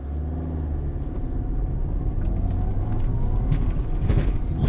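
A 2019 Audi A4 Avant accelerating hard in Auto Road mode, heard as a loud, steady engine rumble that swells slightly with a faint rising whine, continuous throughout with no talking.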